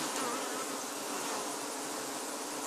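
A young honey bee colony in an open hive gives off a dense, steady buzzing, close and continuous, with countless wings blending into one bright drone.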